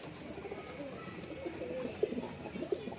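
A pair of pigeons coos softly and close by, with low rolling calls and a couple of sharper notes near the end over quiet background noise.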